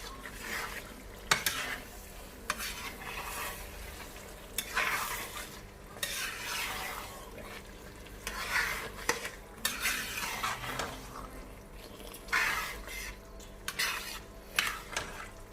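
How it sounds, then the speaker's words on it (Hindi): Palak chicken, spinach and chicken, is stirred in a pan with repeated scraping and clinking strokes of a utensil over a steady sizzle, the bursts coming in uneven waves across the whole stretch with no talking. "मिक्स कर लेंगे सब अच्छी तरह से।"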